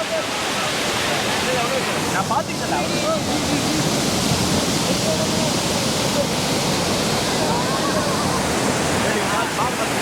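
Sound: waterfall at Lakkam falls, Eravikulam National Park

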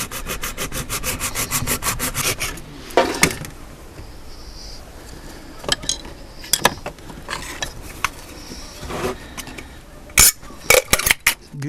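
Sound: hacksaw cutting around an aluminium beer can

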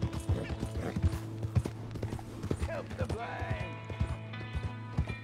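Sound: horse hooves and whinny, from a video game

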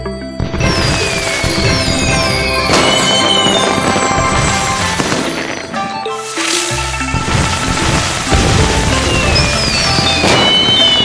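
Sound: fireworks display in the Baby Panda cooking video game

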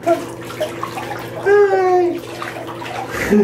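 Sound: bathtub filling with running water

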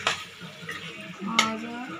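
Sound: boiled chickpeas added to cooked masala in a pan

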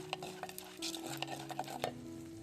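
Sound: frying dried red chillies and onion in a pan

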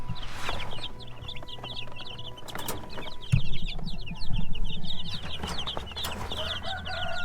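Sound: Rhode Island chicks peeping

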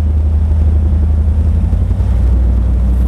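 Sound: offshore powerboat engines on a high-speed run

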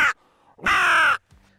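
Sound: crow call imitating crow caws

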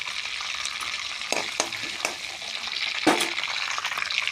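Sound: cinnamon, cardamom and bay leaves frying in oil

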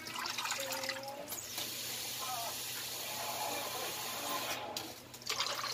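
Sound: water poured into a cooking pot

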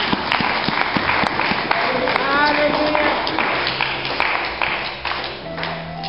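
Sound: congregation clapping in church

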